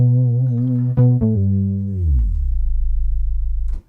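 A synthesizer bass patch plays a low, buzzy sustained tone that wavers, steps down and then glides lower into a steady droning growl before cutting off, loud and alone.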